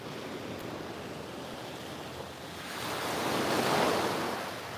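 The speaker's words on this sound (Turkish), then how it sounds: "biraz daha dalga dinleteyim" Sea waves on an Italian beach, a continuous soft roar of surf with a gentle swell that rises and then eases, heard from moderately close with a breath of wind and no voices.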